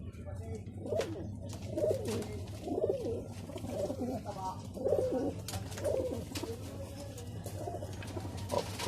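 Owl pigeons cooing in a repeated series of soft, low, rounded coos roughly once a second, close and fairly quiet, over a faint background hum.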